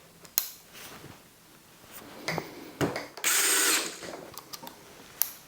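A power screwdriver with a magnetic bit holder drives and backs out a screw, giving short bursts of motor whir and ratcheting clicks, with one sustained higher whine midway and handling knocks between bursts, close up and without speech.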